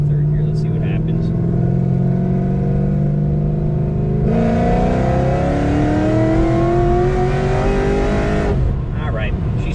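A car in third gear, stated to be an SS on street tires, accelerates hard with a loud, steadily rising engine whine while the tires slip; the engine roar fills the clip, swelling louder midway before easing near the end.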